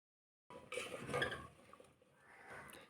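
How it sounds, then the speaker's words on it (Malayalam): A pot lid comes off and a ladle stirs yam curry: soft metallic clinks and scraping of utensil against the pot, quiet and close, with faint swishing of the thick mixture. "നമുക്ക് അടപ്പ് മാറ്റി ഇത് തവി കൊണ്ടൊന്ന് ഇളക്കി നോക്കാം"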